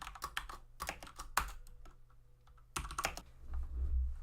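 Code being typed on a computer keyboard in bursts of rapid close key clicks, broken by a short pause, with no voices.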